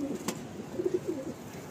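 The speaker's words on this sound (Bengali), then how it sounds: "এটা ফুলসিরা পায়রা, এটা নর না মাদি?" Madrasi pigeons coo in soft, low, throaty bursts, several in a quick series near the middle, close by but quiet, over faint background room noise.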